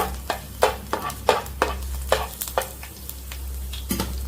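Chopped garlic frying in oil in a pan, a low steady sizzle broken by repeated sharp scraping stirs of a spoon, close and fairly loud, with no talking.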